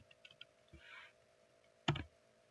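Typing on a computer keyboard, a few faint quiet clicks followed by one sharper keypress, close and isolated in a quiet room.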